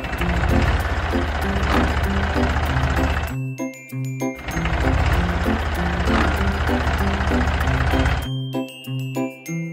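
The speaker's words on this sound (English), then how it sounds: "Tractor." An animated cartoon tractor's engine chugs in a loud, steady rumble under bright jingling music, cutting out briefly twice before starting up again.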